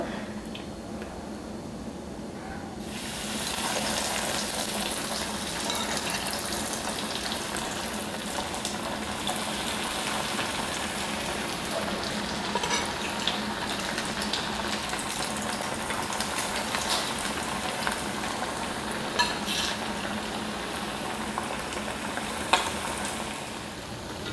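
Chicken cutlets sizzle and crackle in hot oil, a steady close frying hiss that starts after a brief quiet moment and continues with occasional stirring clinks.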